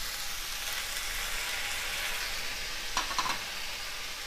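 Tomato puree goes into frying masala for a besan gatte curry, giving a steady close hiss of sizzling with a brief burst of stirring near the end.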